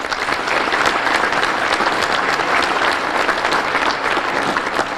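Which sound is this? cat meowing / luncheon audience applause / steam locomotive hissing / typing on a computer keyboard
luncheon audience applause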